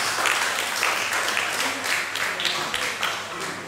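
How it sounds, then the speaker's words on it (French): Audience applause at a live French event, a steady wash of many hands clapping that fills the whole stretch at moderate loudness, with scattered voices mixed in. "Est-ce qu'on peut l'applaudir, s'il vous plaît?"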